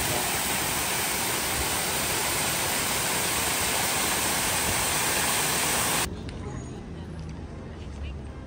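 Waterfall in Nice, France, a loud, steady broadband rush of falling water that cuts off abruptly near the end, leaving quieter outdoor ambience.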